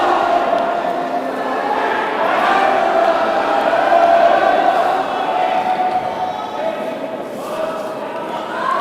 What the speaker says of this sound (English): the gym cheering for him.